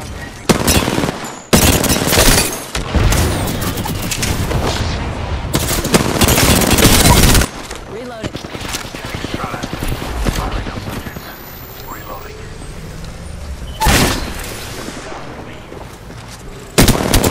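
Loud, dense gunfire from an Apex Legends match played as Valkyrie comes in heavy automatic bursts, with sustained battle noise between volleys and spoken callouts over it.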